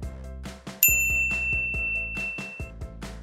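A bright notification bell rings once, a sharp ding with a long shimmering ring-out, laid over a steady rhythmic background music track with no talking.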